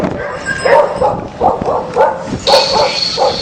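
Dogs in a rough Tibetan town bark and yip in a string of short, loud, closely spaced calls, fairly near, with a brief higher whine among them.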